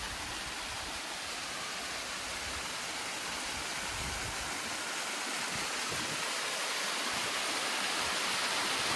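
Waterfall on Chunal Moor, the middle section of a large moorland fall, giving a loud, continuous broadband rush of falling water heard close by with no pauses.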